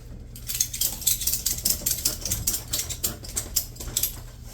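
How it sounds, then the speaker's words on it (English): Ratchet straps being cranked to take tension off a track chain, a rapid series of sharp clicking ratchet strokes in an uneven rhythm, close and fairly loud, with no talking. "we'll let the ratchet straps do the work to get the chain tension off here"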